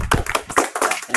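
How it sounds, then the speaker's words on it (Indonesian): An audience claps at an evening prayer and speech gathering, a burst of close, fairly loud handclaps in an uneven, overlapping rhythm. "Beri tepuk tangan untuk Sandi."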